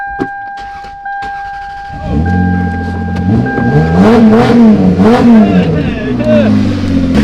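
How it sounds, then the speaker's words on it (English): A car engine cranks and catches after a jump start, then revs in loud rising and falling surges close by, with a few sharp clicks and a steady tone before ignition. "AstroAI is going to be able to do some quick work to this thing and get it jump started"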